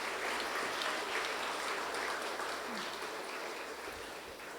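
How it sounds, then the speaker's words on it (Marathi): A lecture audience of children claps for their parents. Steady, dense applause fills the room for several seconds and slowly fades a little toward the end. "आपण आपल्या मायबापांसाठी एक प्रचंड टाळ्या एक वेळ होऊन जाऊ देत"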